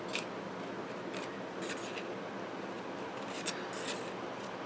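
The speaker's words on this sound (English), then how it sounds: "I may want to cut it down just a tab." Scissors snipping a folded paper template in a few short, crisp cuts spaced irregularly over a quiet room background, close up.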